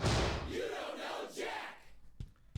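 A canned crowd reaction from the quiz video game You Don't Know Jack: a loud burst of cheering and shouting that fades over about two seconds, followed by a couple of soft thumps.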